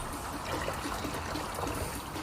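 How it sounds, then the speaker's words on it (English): Diet Coke is poured into a plastic Tango bottle, a steady, close trickle of fizzy liquid that carries on without a break for a couple of seconds. "I'm going to add a mento once I've poured this Diet Coke into this Tango bottle."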